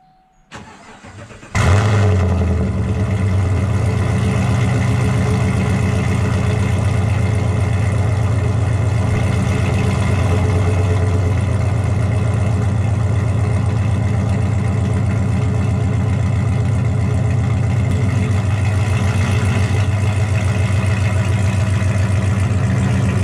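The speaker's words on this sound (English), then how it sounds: "So why not have a cold start Tuesday for you guys?" A Subaru STi cold-starts after a short crank and catches with a loud jump in volume, then settles into a steady, deep, rumbling idle that runs close to the microphone for about twenty seconds.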